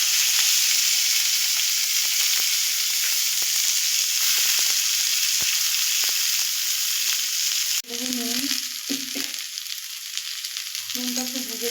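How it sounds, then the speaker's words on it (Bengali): Pointed gourd peels drop into hot oil with fried garlic and sizzle loudly, a dense close hiss that gives way to softer bubbling while stirring clatters on and a voice hums or murmurs faintly underneath. "এবার আমি পটলের ছোকলাগুলো এর মধ্যে দিয়ে দেবো।"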